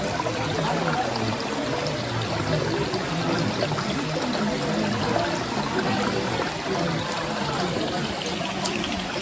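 Water flowing in a stream at the Kumbajari Koti Shivalingalu site in Adilabad, a continuous broadband rush and trickle at steady loudness for the whole span, no voices.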